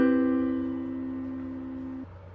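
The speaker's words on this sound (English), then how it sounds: "So first I'm going to start with the major seventh chord" A major seventh chord struck once on a piano, ringing out alone and fading slowly over about two seconds before the notes are released.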